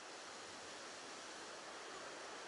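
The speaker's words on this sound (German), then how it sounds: "Das Meer kräuselt sich schon so ein bisschen. Der Wind, der darüber peitscht." Wind whips over a rippling sea at the beach of Ksamil, Albania, a dense, steady rushing roar that stays loud and unbroken throughout with no voices.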